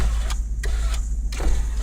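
Power window motor of a 1998 Ford Taurus whirring in short bursts as the glass cracks open a little, close and steady over a low idling engine hum.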